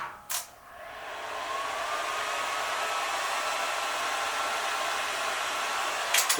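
A heat gun blows a steady, close, continuous rush of hot air across vinyl wrap being shrunk onto a motorcycle helmet, with brief clicks at the start and end.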